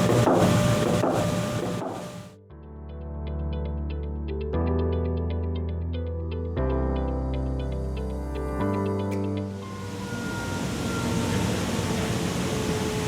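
An automated belt-cutting machine slices the inside radius of a belt, its steady motor hum broken into several sustained stepped tones lasting a couple of seconds each, loud and close, with no voices.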